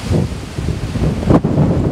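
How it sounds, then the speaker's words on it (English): Strong gusty wind of 20-25 mph with 30 mph gusts buffets the microphone in loud roaring bursts, briefly dropping off before surging again. "Wind's blowing 20-25 mile an hour with gusts 30"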